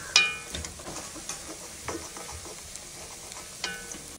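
Beef coated in masala frying in hot coconut oil for pickle, a steady close sizzle under scattered stirring clatter and scrapes, with no one talking.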